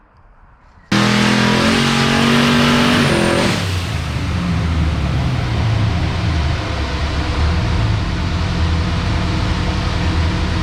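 Twin turbo Chevelle engine on Holley EFI revving under boost, a loud, close roar that climbs in pitch, then breaks into a harsh, rushing, rumbling drone that sustains to the end.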